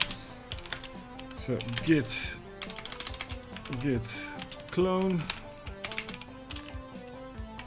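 Fast, uneven computer-keyboard typing comes in bursts of clicks during a coding session, close and fairly quiet, with someone talking over parts of it.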